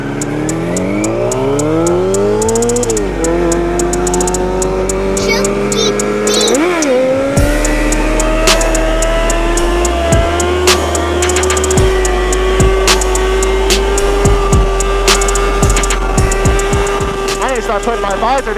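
A Nissan 370Z driven hard, its engine revving up and down through gear changes with tires squealing, loud and close throughout with constant wind buffeting and a voice briefly underneath.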